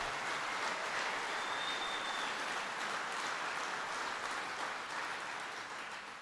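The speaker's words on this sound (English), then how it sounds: "And even Terry's clapping about that one" Sustained applause from a large audience at a White House political speech, a dense, even wash of clapping that holds steady and fades only slightly near the end.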